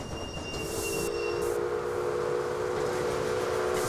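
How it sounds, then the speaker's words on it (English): A steam locomotive in the Railway Empire video game pulls out of Grand Central Station in New York, with a steady hissing rumble of steam and rolling wagons beneath a sustained, tonal steam whistle that fades partway through. "It departs New York from Grand Central Station on the main line."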